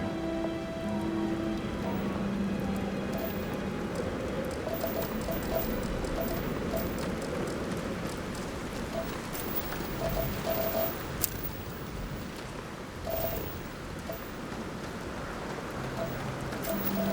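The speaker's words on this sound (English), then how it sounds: "guess it's raining on this planet" Steady rain falls on a cold planet in the video game Starfield, a continuous close patter of drops with soft, faint tonal game sounds beneath and no talk.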